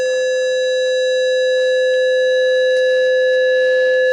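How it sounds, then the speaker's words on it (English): A Hordijk modular synthesizer plays a steady sustained triangle-wave tone with the modulation amount opened, a constant bright pitched hum with stacked harmonics, loud and unbroken throughout. "now the triangle wave gets sort of compressed at the tops"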